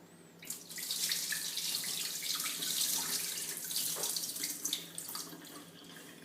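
Rinse water from washed rice pours steadily into a kitchen sink, a close, continuous splashing gush lasting several seconds with no talk.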